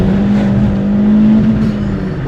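A VW Fox GTI turbo engine pulls hard under acceleration, a loud, steady close-up drone with a sustained tone that rises slightly over about two seconds, with no talk over it.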